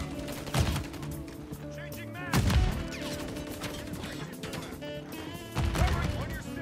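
Gunfire in Modern Warfare 3 multiplayer, with several loud, booming shots spaced a few seconds apart over busy game noise and a player's voice talking.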